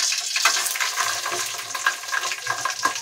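Cinnamon, cloves and green chillies sizzle in well-heated oil for ghee rice, a close, steady frying crackle with small stirring bursts and no talking.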